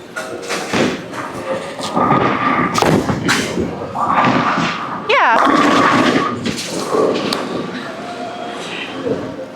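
A bowling ball is rolled down the lane and strikes the pins, and the scattered rumble and thuds of the impact run under continuous nearby talk in a bowling alley.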